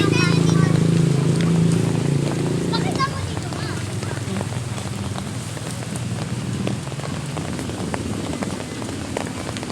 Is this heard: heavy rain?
yes